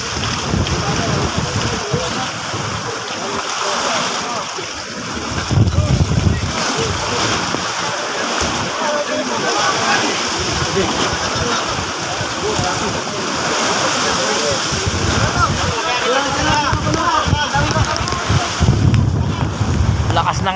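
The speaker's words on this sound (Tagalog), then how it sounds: "Lakas ng alon tsaka lakas ng ulan" Loud, steady roar of wind and rushing water with strong waves splashing and heavy rain at sea in the West Philippine Sea, buffeting the microphone, while a person talks faintly underneath.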